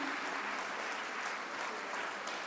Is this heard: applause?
yes